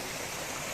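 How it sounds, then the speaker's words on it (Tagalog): Strong spring water gushing near a waterfall at Binalew, Clarin, a dense continuous rush of flowing water heard close up for under a second. "Kusog kayo og tubod ay napita."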